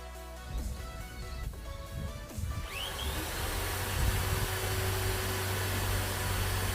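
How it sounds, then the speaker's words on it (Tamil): Power drill boring a hole in a water tank, starting with short bursts and then a steady, loud whirring grind that runs continuously for several seconds. "இதுக்காக நான் ஒரு ட்ரில்லிங் மிஷின் வச்சு ஒரு ஹோல் போட்டு நட்ஸ் அண்ட் போல்ட்ஸை யூஸ் பண்ணிகிட்ருக்கேன்."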